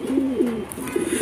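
Racing pigeons coo in a short, close series of soft, rolling calls, with faint background noise.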